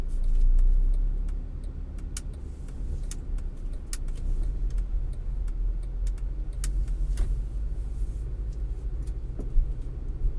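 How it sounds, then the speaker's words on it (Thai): Low steady rumble of a car-park atmosphere in the underground parking level of Robinson Samut Prakan shopping mall, with scattered faint clicks and ticks over the hum and no talking. "ดูบรรยากาศนะคะ ที่จอดรถโรบินสันสมุทรปราการค่ะ ชั้นใต้ดินนะคะ"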